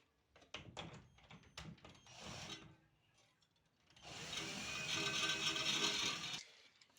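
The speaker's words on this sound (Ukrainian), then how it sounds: "Беремо шуруповерт." A cordless screwdriver drill used for pulling wire on a homemade frame jig first gives several quiet clicks and ratcheting bursts, then its motor runs with a steady whir for about two seconds before stopping.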